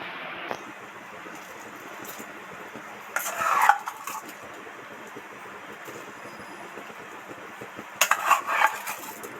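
Rice grains rattle and clatter into a metal pot in two short bursts, with quiet kitchen background in between.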